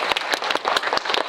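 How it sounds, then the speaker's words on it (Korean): Audience applause after a film screening talk, close and lively, with distinct individual claps popping rapidly in an irregular patter over a brief burst. "박수 한번 보내드릴게요."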